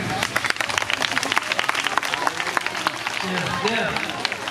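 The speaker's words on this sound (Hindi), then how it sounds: "ताली सेवा करेंगे।" Devotees at a Bhagavat katha gathering clap steadily in a dense, ongoing patter, with voices talking and calling over the clapping throughout.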